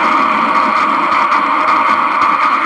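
A human voice imitates a train rumbling through a tunnel, producing a steady, loud, unbroken hissing roar that holds for nearly three seconds without pause.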